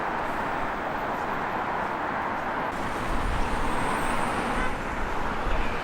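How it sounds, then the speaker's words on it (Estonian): Dense city-centre street traffic rumbles steadily throughout, a continuous wash of passing cars and heavier vehicles with low engine swells growing louder in the second half, no voices. "nüüd, kui me oleme rohkem linna keskosas, siis siin juba liiklust on palju rohkem"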